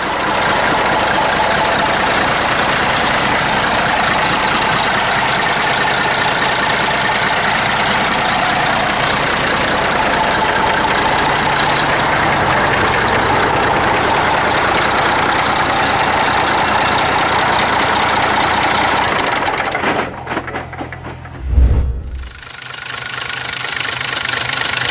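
A Mack E6 diesel truck engine idles after a cold start with a loud, steady, rough knocking rumble for about twenty seconds, then cuts off abruptly.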